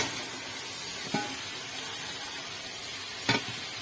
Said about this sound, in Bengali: এবার এর মধ্যে ভাজা পটল আলুগুলো আমি ঢেলে দেবো।